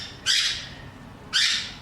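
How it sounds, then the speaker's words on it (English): Pet birds call indoors, two sharp, bright squawks about a second apart, close and loud against a quiet room. "my little birds are kicking up because they're not outside yet."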